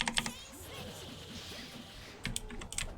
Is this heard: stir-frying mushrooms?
no